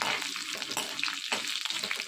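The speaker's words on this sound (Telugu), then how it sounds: "ఇలా తాలింపులన్నీ కూడా బాగా వేయించుకోవాలి." Tempering spices, dried red chillies, garlic and cumin, sizzling and frying in hot oil as they are stirred, a continuous close crackle with small bursts and scrapes, no talking.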